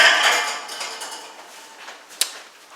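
A metal pan is set down in a kitchen sink, giving a bright clatter that rings and decays, followed by a few softer knocks and one sharp clink near the end.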